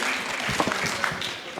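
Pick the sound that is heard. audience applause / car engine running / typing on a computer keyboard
audience applause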